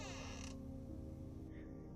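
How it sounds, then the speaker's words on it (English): A slow, drawn-out creak of a door swinging open, steady and close, with a grinding, strained tone throughout. "the door creaked open slowly"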